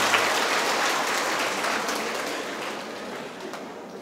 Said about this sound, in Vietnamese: vỗ tay thì cứ giờ vỗ đi, cho vỗ đi